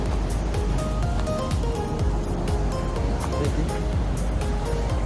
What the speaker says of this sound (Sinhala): එතනයි රැලි රැල්ලේ එන්නේ.